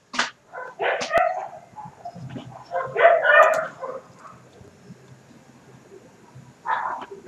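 Dogs barking close by in irregular bursts of sharp barks and higher yips, with short quiet gaps between the volleys.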